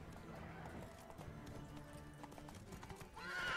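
A horse in The Witcher 3 clip-clops along with steady hoofbeats, then lets out a loud, rising neigh near the end; rendered as game sound with no talk over it.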